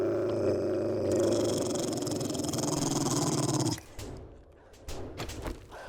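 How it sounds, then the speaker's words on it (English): A dog in the 7 Days to Die survival game gives a low, rumbling growl up close for several seconds, then it cuts off, leaving faint thumps and brief soft sounds. "I hear you, dog."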